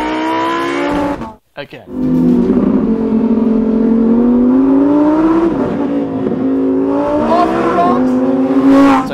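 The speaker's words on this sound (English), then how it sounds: "This is also one of those engines that changes characteristics as you rev it out." Car engine revving loudly and close, a steady tonal drone that climbs in pitch as it builds through the rev range, with a brief dip early on and a spoken voice at the start.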